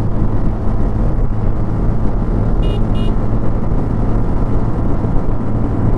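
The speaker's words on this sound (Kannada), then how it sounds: "ಎಕ್ಸಾಸ್ಟ್ ಸೌಂಡ್ ಚೆನ್ನಾಗಿ ಕೇಳಿಸುತ್ತೆ." A 2025 Bajaj Platina 110 Fi Comfort motorcycle running at full throttle, its engine and exhaust producing a loud, constant, close drone with steady rumble and no pauses or talking.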